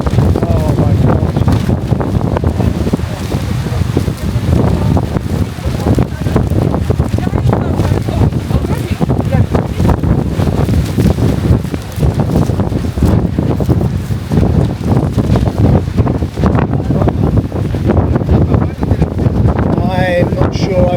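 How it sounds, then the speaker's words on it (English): Strong wind buffets the microphone on a beach during a sandstorm in Gran Canaria, a loud continuous roar and rumble with surf-like rushing, while people talk briefly over it. "Get a taste of the wind."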